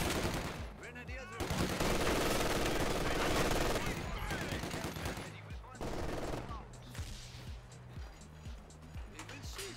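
Grenadier squads firing machine guns in the real-time strategy game Company of Heroes 2, with loud bursts of automatic gunfire, rattling volleys and sharp impacts coming and going among battle noise, while game voices call out briefly.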